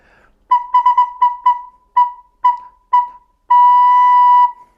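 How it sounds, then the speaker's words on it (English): A recorder plays a run of short, crisply tongued notes, a quick cluster and then evenly spaced single notes, ending in one long held tone, all clear, close and alone. "we're going to use our tongue to start the note"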